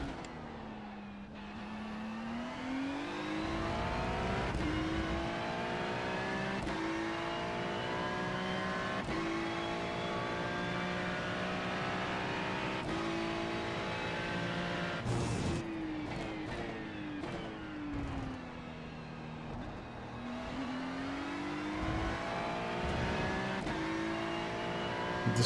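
A GT3 race car engine at the Red Bull Ring in a racing game, heard from the cockpit, revving high through gear changes with rising pitch sweeps, brief lifts for corners, and a steady loud drone throughout.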